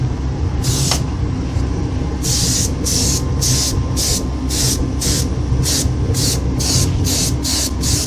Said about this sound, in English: This is a commercial dye spray